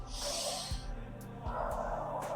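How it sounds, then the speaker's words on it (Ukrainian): A person takes a deep breath in through the nose and lets it out in a slow exhale through the mouth during a relaxation exercise, breathing audibly close to the microphone. "зробити такий глибокий вдох в груди і плавний видих через рот"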